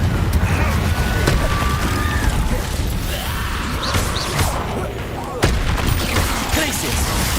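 Repeated Confringo fire-spell blasts in the Hogwarts Legacy video game, sharp bursts landing over a dense, constant backdrop of combat noise and effects, with a voice calling out spells.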